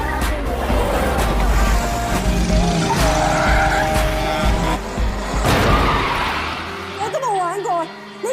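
Cars race in a film scene, engines roaring and tires squealing through long skids, loud and dense throughout, followed by a short burst of sharp rising screeches near the end.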